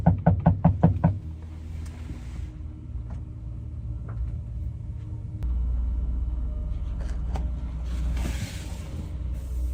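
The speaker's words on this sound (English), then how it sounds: "Somebody's knocking." Rapid knocking on the side of a van, a quick burst of about eight sharp raps at the start, followed by a low steady rumble and faint background noise.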